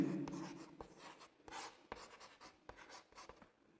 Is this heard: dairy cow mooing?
no